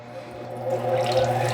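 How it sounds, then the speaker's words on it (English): Water runs steadily onto a gemstone grinding wheel with a continuous hiss and splash over a low motor hum, growing slightly louder toward the end. "we got the water going"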